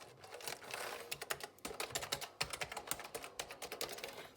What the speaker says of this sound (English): Managed to fix the keyboard. The spacebar was a little stuck.